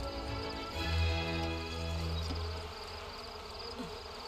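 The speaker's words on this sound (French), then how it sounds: "Eh oui, nos abeilles nous attaquent." Swarming bees buzz and attack in The Sims 4, a steady droning hum with game music underneath, loudest early on and holding at a moderate level throughout with no speech.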